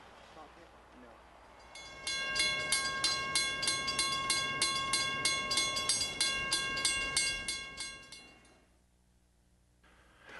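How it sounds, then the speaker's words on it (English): A garden model train runs along an outdoor track with steady, rhythmic clicking and a bright repeating ringing tone, then slows and fades to near quiet. "Now it's time to give your train the first test run."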